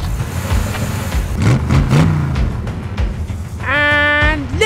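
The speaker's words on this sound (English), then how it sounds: "Start your engines!" Race car engines at the start of a demolition derby, rumbling and revving in loud surges. Voices shout over them, and a rising whine closes the clip.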